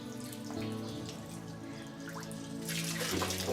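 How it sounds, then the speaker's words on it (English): Lamb intestines for Turkish kokorec are washed under a running tap: a steady stream of water splashes, with soft squelching handling, and the flow grows louder near the end over a faint tonal background. "These lamb intestines have been washed 2 times and will now be washed 2 or 3 times more."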